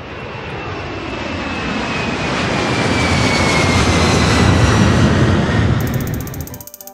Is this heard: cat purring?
no